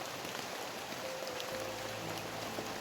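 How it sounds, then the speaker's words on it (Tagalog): Heavy rain pours steadily outdoors among leafy vegetation, a dense continuous hiss with a faint tone running through it and no talk. "ang lakas talaga ng ulan"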